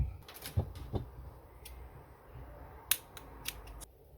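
Scissors snip through macrame cord for a hanging plant holder with several crisp, close cuts, a few quick snips early on and more spaced out later, against a quiet room.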